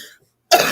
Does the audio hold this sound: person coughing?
yes